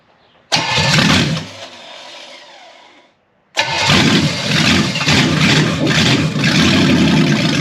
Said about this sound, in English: Starter doesn't want to go.